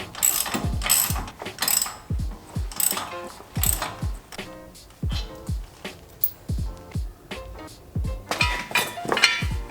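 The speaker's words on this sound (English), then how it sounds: "Once I got it loosened, I switch over to the ratchet just to make it quicker." A ratchet clicks in quick, steady bursts while backing out brake caliper bolts holding the caliper to its bracket, fairly close and loud, with short pauses between runs of clicks.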